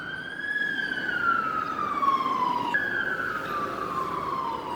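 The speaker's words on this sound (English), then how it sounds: "Goddamn ambulance." An ambulance siren wails past, its steady descending tone sliding lower as it goes by, fairly loud over a bed of road noise.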